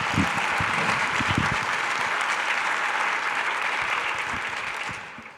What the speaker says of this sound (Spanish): Dale un aplauso al Rey, por favor.